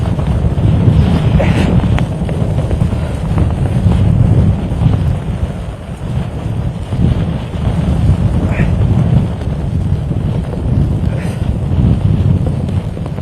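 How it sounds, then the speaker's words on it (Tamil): Strong cyclone winds of Cyclone Fengal roar across the microphone in a loud, continuous low buffeting rush that swells and dips slightly, with no voices over it. "பேசவே முடியாத அளவிற்கு கடுமையான சூறாவளி காற்று சுழன்று அடிக்கிறது."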